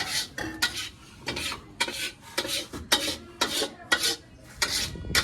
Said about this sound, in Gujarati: હજી મિત્રો આને 10 મિનિટ હલાવવાનું છે.